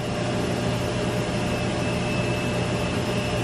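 A Micro 100 cutting tool is ground on a grinder, producing a loud, continuous whirring drone with a thin high whine running through it.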